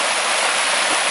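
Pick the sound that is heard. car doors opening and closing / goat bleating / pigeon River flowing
pigeon River flowing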